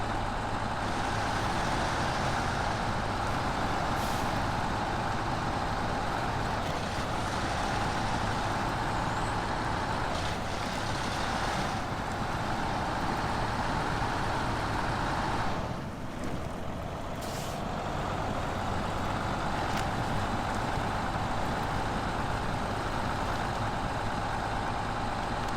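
Deep, steady drone of Pac Lunx mod truck engines grinding through mud in low range with diff lock in SnowRunner, loud and continuous with only a brief dip in the roar.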